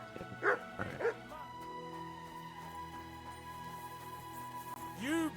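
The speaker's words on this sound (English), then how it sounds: "You better call back that dog." A dog barks in Kingdom Come: Deliverance 2, a few sharp yips near the start, then whimpering over steady background music.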